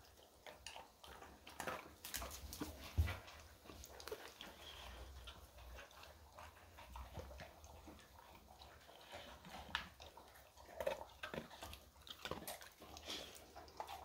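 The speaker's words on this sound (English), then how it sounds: "Puppy eating ASMR." A puppy crunches dry kibble, producing quiet, irregular crunching and chewing with occasional snuffling, close and faint, with no talking.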